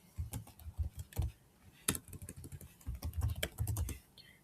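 Keystrokes on a computer keyboard come in quick irregular bursts separated by short pauses, close and fairly quiet, with no one speaking.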